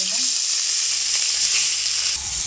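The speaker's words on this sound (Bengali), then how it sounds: "দেখো বন্ধুরা মাছটা আমার ভাজা হয়ে গেছে" Rohu fish, rubbed with salt and turmeric, sizzles steadily in hot oil in a wok, a dense continuous crackle that stays loud and close throughout with no voices.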